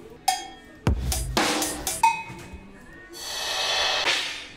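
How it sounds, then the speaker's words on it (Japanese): Acoustic drum kit sounds fused with electronic elements from the Native Instruments Drum Lab sample library, playing a short sequence of sharp hits and splashy cymbal-like bursts, fairly loud with no voices. "これはですね、アコースティックなドラムなんですけど、"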